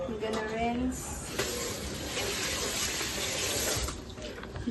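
Running tap water rinses a foot care basin in a sink, a steady hissing stream that fills most of the stretch at close range and moderate loudness.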